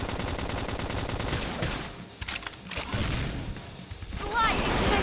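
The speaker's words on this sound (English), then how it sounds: "Try toppling it with gunfire!" Gunfire in the video game Xenoblade Chronicles X crackles in rapid bursts amid explosive booms and combat effects, dense and loud, with a brief lull in the middle before the barrage resumes.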